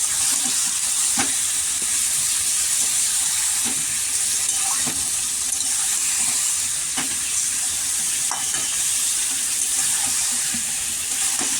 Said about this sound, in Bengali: দেখুন ভাজা ভাজা করে করবে।